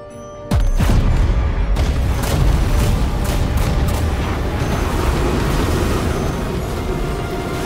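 Cannon fire in the video game Granblue Fantasy Relink, opening with a sudden loud boom followed by a dense barrage of blasts and rumbling explosions that roll on continuously to the end.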